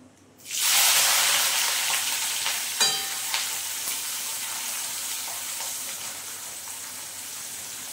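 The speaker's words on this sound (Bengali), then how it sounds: "এবার দিয়ে দিচ্ছি কুচনো পেঁয়াজ" Chopped onion drops into hot oil over a low flame, setting off a loud, steady sizzle that swells right after it goes in and then holds. A few light utensil clicks follow, and no one speaks.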